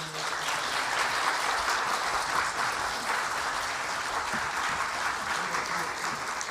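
A church congregation at a Sunday worship service claps in sustained, even applause, moderately loud and continuous throughout with no pauses.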